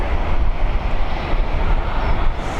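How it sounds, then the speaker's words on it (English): A Swissair Airbus A220 jet departing Dublin Airport on runway 28L gives a loud, steady broadband engine roar with heavy low rumble, without a break. "Here we go, the first of two Swissair departures. This one's an Airbus A220 heading over to Zurich."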